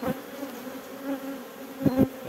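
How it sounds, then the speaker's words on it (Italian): Honeybees buzzing steadily around hive frames in an apiary among acacia trees, a close, continuous drone with a couple of louder passes near the end. "Api stanno bene, sono pronte."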